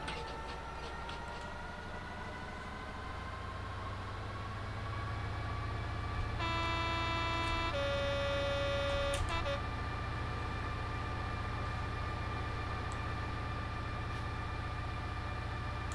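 A Class 66 diesel locomotive of the AP engineering train on the West Coastway line, heard from outside in Train Simulator: a steady, loud engine drone with rising throttle and a brief, sharp two-tone horn blast partway through.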